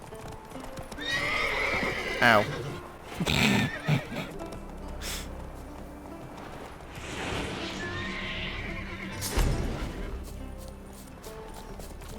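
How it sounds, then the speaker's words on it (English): Horses in the Witcher 3 video game neigh and whinny loudly in several bursts while hooves clop steadily nearby, with one brief voice exclamation. "Hey, horses."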